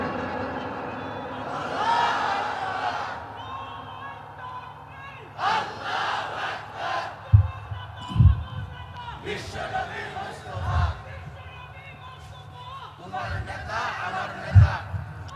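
Crowd at a Bengali Islamic sermon shouting the takbir slogan in loud unison bursts, several rounds answering a preacher's call, with talk and echoing pauses between the chants.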